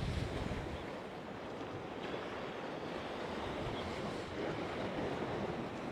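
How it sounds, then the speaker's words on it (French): Wind-driven waves on the Mediterranean Sea wash in continuously along the shore, a broad steady surf roar mixed with gusty wind buffeting the microphone, with no one speaking. "Avec le vent et tout ça, il forme un peu des vagues."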